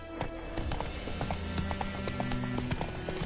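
Roach, a horse in The Witcher 3, gallops with quick, rhythmic hoof clops on the ground, loud and close, with a brief whinny-like sound and a faint voice in the mix.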